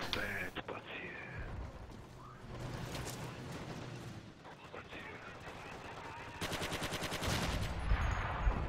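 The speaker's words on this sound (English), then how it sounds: "Not sure what I was shooting at there, but it looked like an American." Bursts of gunfire in the Forgotten Hope 2 multiplayer war game, including a rapid automatic volley near the end, with game effects and someone talking over it.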